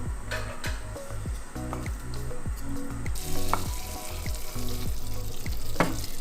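Lard pieces heating in a pan with water, a steady sizzling hiss with repeated stirring and scraping strokes, growing louder and brighter partway through.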